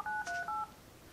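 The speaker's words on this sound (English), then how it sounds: "it automatically dials" An Avaya B199 IP conference phone auto-dialing a bridge number, giving three quick clear DTMF tone beeps in a row, then quiet.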